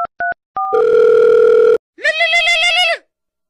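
Animated telephone ring in a Bangla comic cartoon about Saraswati Puja: a few short electronic beeps, then a long steady tone and a warbling ring burst, loud and close, with no talk over it.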